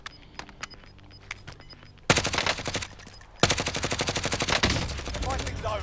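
Automatic gunfire from the Grau and other weapons in Call of Duty Warzone, Verdansk map: scattered single shots early, then two loud sustained bursts of rapid rattling fire packed with dense, evenly spaced reports.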